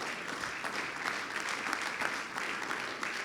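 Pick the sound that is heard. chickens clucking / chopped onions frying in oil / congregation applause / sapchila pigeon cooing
congregation applause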